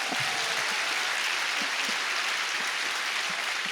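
An audience claps at a sports centre opening event, scattered but steady applause with distinct individual claps standing out against a continuous wash of crowd noise.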